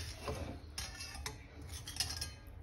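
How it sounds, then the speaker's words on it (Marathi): A spoon scrapes and clinks against a pot while stirring narali bhat, sweet rice with jaggery and grated coconut, in a home kitchen; soft, irregular scraping and tapping strokes, quiet and close, with no talking. "हे छानसं सगळं एकजीव करून घेऊया, जेणेकरून गूळ आणि खोबरं हे पूर्ण ह्या भाताला छानसं लागलं जाईल"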